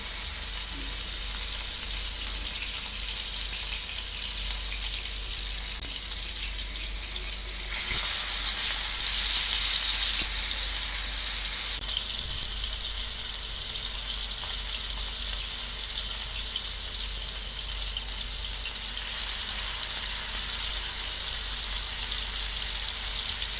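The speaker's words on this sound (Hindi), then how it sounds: "ऑयल गरम होने के बाद उसमें चपली डालकर फ्राई कर लेंगे।" Chapli kababs fry in hot oil in a pan, a steady close sizzle and crackle running throughout with a brighter, louder burst of spitting oil midway, no voices.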